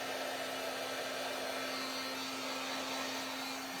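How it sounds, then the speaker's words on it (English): An embossing heat gun blowing hot air to dry ink on a craft project gives a steady, even whooshing hum with a faint tonal whine, continuous and fairly close, with no voices. "I'm gonna try not to melt this rub-on because I've got my embossing gun out"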